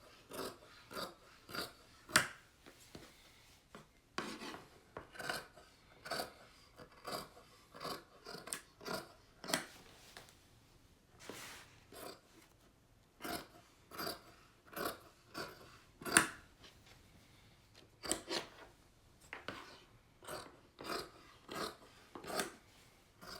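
Fabric scissors snip through cloth while cutting out the pieces of a 1630s woman's doublet, a steady series of crisp, close blade closures in irregular rhythm, quiet overall with no one talking.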